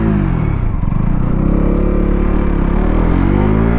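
KTM Duke 200 single-cylinder motorcycle engine, rated at 25 PS, pulling hard in first gear, a loud, close, continuous rising rev with steady harmonic drone throughout and no talk.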